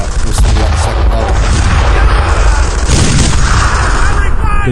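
Gunfire and explosions from the World War II shooter game Brothers in Arms: Earned in Blood: loud, dense booming shots and rumbling blasts that continue without a break, with voices mixed in.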